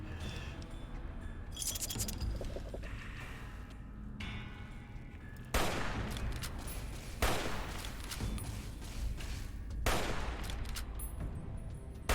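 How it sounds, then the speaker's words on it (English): Gunfire from the video game Fallout: New Vegas arrives in repeated sharp bursts of shots, several loud cracks spaced a few seconds apart over a busy game background. "He's shooting backwards."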